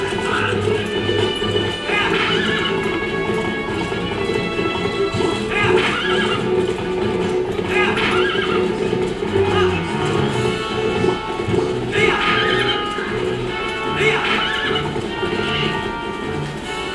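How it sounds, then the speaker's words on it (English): A horse gallops and neighs in The Legend of Zelda: Twilight Princess, with steady clip-clop hoofbeats under repeated whinnies that come every couple of seconds over game background sound. "Horse really does speed things up."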